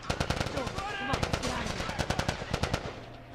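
Video game gunfire from The Last of Us crackles in rapid bursts of sharp shots, dense and close, with voices shouting over it.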